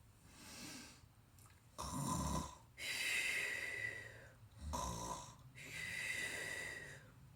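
A person imitates snoring nearby: two cycles of a rough, rumbling inhale followed by a long breathy exhale, fairly quiet and with no other talk.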